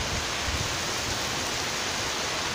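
Heavy rain driven by strong wind in Saudi Arabia pours down in a steady, dense, broadband roar, loud and unbroken throughout with no voices.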